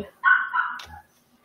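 A dog gives one close bark that trails into a brief yip, loud and sharp, then quiet.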